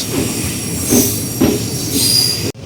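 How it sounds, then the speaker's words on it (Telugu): Garudadri Express with old ICF coaches pulling out of Avadi railway station, loud and close, with rumbling wheels and repeated squeals rising and fading over a constant roar. "ఆవడి రైల్వే స్టేషన్ నుంచి మన ట్రైన్ అయితే స్టార్ట్ అయిపోయింది"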